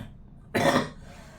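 One short, dry cough bursts out alone against a quiet background, close and clear.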